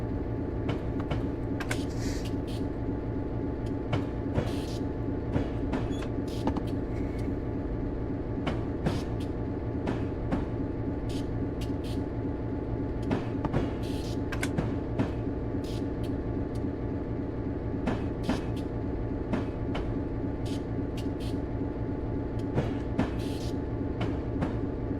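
An EMD GP9 diesel locomotive running in a train simulator game, a steady engine drone with rail clatter and irregular sharp clicks and knocks throughout, loud and continuous with no talk.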